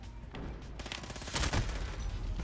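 Rapid bursts of Finn LMG machine-gun fire in the shooter game Modern Warfare 2019, a dense, loud fusillade that runs steadily through the whole moment, peaking midway.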